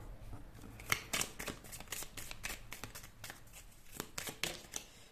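A card is drawn from a deck and the cards are shuffled, giving soft papery riffling and sharp flicks close by with a faint background hiss and no talking.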